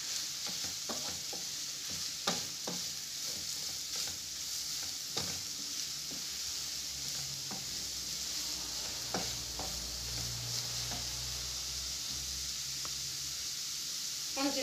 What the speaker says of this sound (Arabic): ونحركو